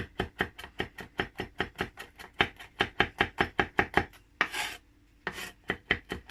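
A knife mincing vegetables on a cutting board while preparing roasted veg for crispy fish: fast, even chops in a steady rhythm, close and crisp, with a short scraping pause before chopping resumes.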